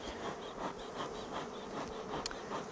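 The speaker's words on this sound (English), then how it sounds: "today we're keeping bees on a balcony" Honeybees buzzing around a hive kept on a sheltered, covered balcony, a steady close drone with soft pulsing swells and a brief sharper buzz of a bee passing near.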